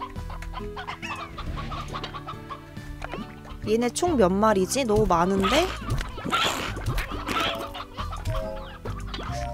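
Chickens in the Slime Rancher video game cluck and squawk repeatedly amid game sound effects, while a player talks over them.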